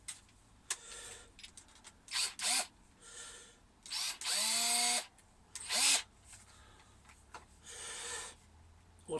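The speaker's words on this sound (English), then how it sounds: "put a little tape around the drill to guide how deep you're drilling" A power drill bores into a delaminated camper floor in several short bursts of whining, rising motor noise separated by quiet pauses, close and fairly loud.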